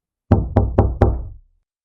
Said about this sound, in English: the knocking came again, this time louder and more insistent, almost as if it were coming from inside the house